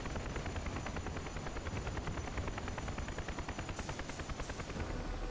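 A UH-1H Huey helicopter in the DCS World flight game makes a continuous, close rotor thump: fast, even blade chops over a dense turbine roar, alone and without talk.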